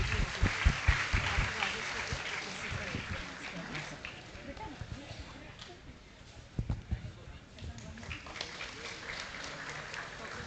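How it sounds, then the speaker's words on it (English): An audience at a university youth convention applauds a welcome, the clapping strongest at first and then thinning into a lighter, irregular patter, with voices and room noise running beneath. "Round of applause, please."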